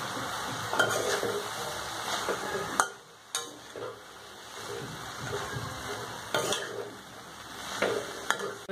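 Cluster beans sabzi with potatoes being stirred and mixed in a pan, a soft steady sizzle under repeated scraping and clinking strokes of a spoon, with a brief lull midway before the stirring resumes.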